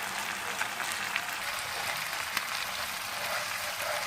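Chicken fries in ghee in a karahi pan for Afghani chicken karahi, a steady close crackling sizzle with scattered pops and occasional stirring scrapes, continuous throughout.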